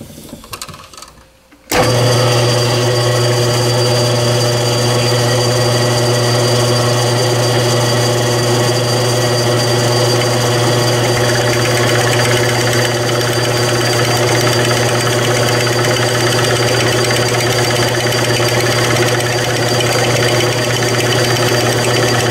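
A metal milling machine cuts with a carbide wood router cutter, starting abruptly after a quiet moment and then running as a loud, steady high-pitched whine with a constant hum for the rest of the clip.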